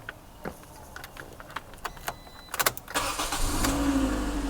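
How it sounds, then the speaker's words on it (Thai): After a few clicks and rattles, a 2014 Toyota Altis 1.6G engine cranks and catches, then settles into a steady idle up close. "ผมสตาร์ทรถให้ดูนิดหนึ่งนะครับ"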